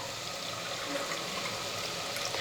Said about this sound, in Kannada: 4 ಕಪ್ ನೀರು ಹಾಕೋತೀನಿ ನೋಡಿರಿ.